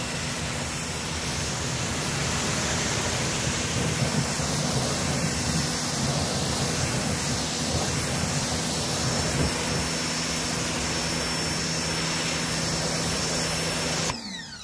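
A SunJoe 4000 electric pressure washer sprays a Tesla during a car wash, producing a loud, continuous broadband hiss of water jet that holds steady for about fourteen seconds before cutting off.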